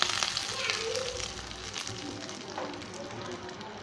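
Curry leaves frying in hot oil with popped mustard seeds, a tempering poured into ridge gourd peel chutney: a steady close, bright sizzle and crackle with a few sharper pops, continuous throughout.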